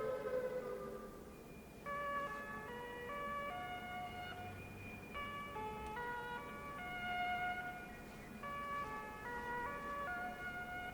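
An electronic siren wails steadily in rising and falling tones, a synthetic video-game alarm with a low rumble underneath and no talking.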